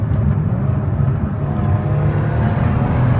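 Kia Stinger engine heard from inside the car during a downshift, a loud steady low drone with a slight rise in pitch, with no talking over it.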